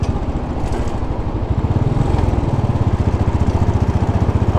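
A motorcycle riding across a New York bridge toward New Jersey, its engine loud and close with a rapid pulsing throb that grows more regular and insistent as it accelerates, with rushing wind noise.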